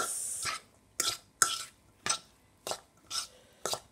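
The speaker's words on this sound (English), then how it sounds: "Give it a good mix." Salt fish is mixed with lemon juice in Guyanese style, producing about seven brisk, scraping and squelching strokes at a regular pace with quiet pauses between them, close up and with no talking.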